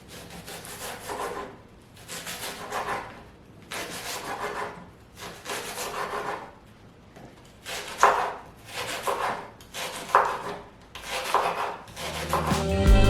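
A knife slices leeks into small pieces on a board, with regular rasping cuts about once a second and a few sharper knocks, close and clear, then faint music at the very end.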